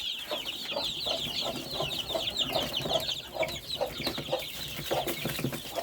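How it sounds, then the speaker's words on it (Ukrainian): Backyard hens, among a flock that includes bantams, cluck steadily on a warm day, with repeated short clucks overlapping in a continuous close chorus and no talking. "Боже, яка противна курка, дурна."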